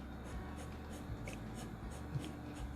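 Pencil sketching light curved lines on paper while drawing a dress collar, a faint, steady scratchy texture with small stroke accents throughout.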